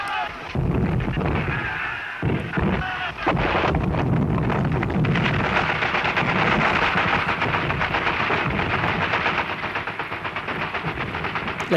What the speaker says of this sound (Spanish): pueda oír el ruido de los proyectiles de artillería